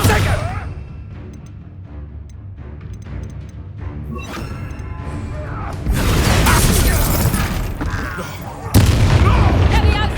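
A Descender spell slamming an enemy in the video game Hogwarts Legacy, with a heavy crash that swells into sustained rumbling impact noise and a second loud hit near the end, under game effects and talk.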